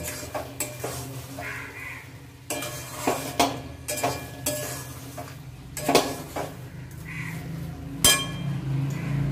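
Sugar being stirred into daliya pulao in a pan, a spoon scraping and clinking against the metal in uneven strokes over a soft sizzle, close and moderately loud.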